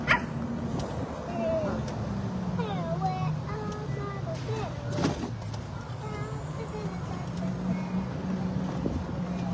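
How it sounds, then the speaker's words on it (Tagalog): A dog yips and barks in short bursts over a car's steady low hum, with children and an adult talking throughout. "Doggy."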